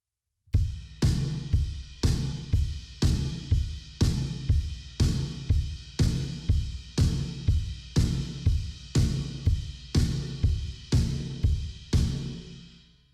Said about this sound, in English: They do eighth notes on the kick, eighth notes on the ride, snare on the 2 and the 4.